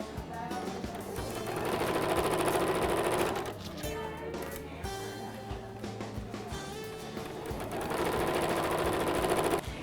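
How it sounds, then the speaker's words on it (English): A sewing machine runs a quarter-inch seam on a fabric care cap, its rapid needle chatter loud and close in long bursts separated by short pauses. "I'm just simply sewing it all together. This again is a 1/4 inch seam."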